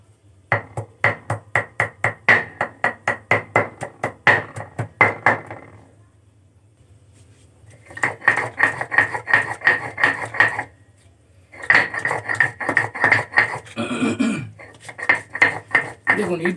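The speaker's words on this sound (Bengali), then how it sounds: "চলুন আমি তাহলে এখন মশলাটা সুন্দর করে বেটে নিই।" Spices are ground by hand on a stone grinding slab (shil), making loud, close, rhythmic scraping strokes in fast repeated bursts, separated by short pauses.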